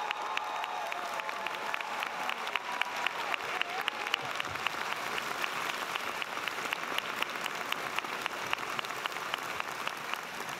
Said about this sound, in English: Would you please help me cheer Laura Engel and Kelly Cheryl Linkus?